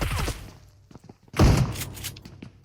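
Gunfire in the mobile battle royale PUBG Mobile comes as a few sharp shots, with a loud heavy blast near the middle, separated by quieter game noise and faint thuds.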